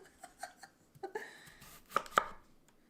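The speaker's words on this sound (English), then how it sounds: "Once you peel your potatoes, you want to start chopping them." A knife chops peeled potatoes on a board, giving a series of sharp, close knocks in uneven rhythm, quiet between strokes and stronger near the end, with no talk.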